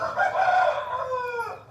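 A young dega rooster for sale crows once, a loud close cock-a-doodle-doo that rises and trails off over under two seconds, with no talk.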